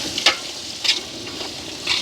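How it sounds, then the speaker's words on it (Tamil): Onions and green chillies sautéing in a pan, a soft continuous sizzle under a few sharp spatula scrapes spaced roughly half a second to a second apart, close by. "வெங்காயம் நல்லா வதங்கட்டுக்கும்"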